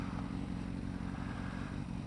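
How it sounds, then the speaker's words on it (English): A Kawasaki Ninja motorcycle fitted with a Scorpion exhaust and no catalytic converter runs with a steady, throbbing engine note, close and fairly loud, with no voices. "the Scorpion exhaust on the Ninja without a catalytic converter, it was not a nice sound"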